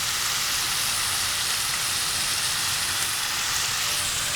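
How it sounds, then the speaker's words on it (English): Aromatics sauté in sesame oil in a hot pan, giving a loud, dense, continuous sizzle with no gaps, close up and heard alone. "after we saute our aromatics and we get some sesame oil and Coke into here"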